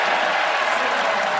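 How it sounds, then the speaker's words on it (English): Basketball crowd at an Alabama at Florida SEC men's game, roaring and applauding in a dense, loud, sustained wash of cheering and clapping. "Now you can hear by the roar of the crowd which way that ball's going."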